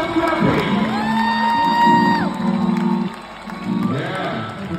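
Audience at a soul concert in an arena giving a standing ovation, a swelling roar of cheers, whoops and bellowing shouts with clapping beneath, easing off briefly before rising again.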